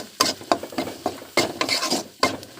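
A spoon scrapes and stirs turmeric, chili, cumin and coriander powder in a pan while making an egg and potato curry. The strokes are close, rhythmic and repeated, with no talk.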